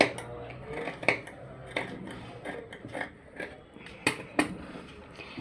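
Scissors cutting through folded blouse cloth, a few close crisp snips with short pauses between them, fairly quiet.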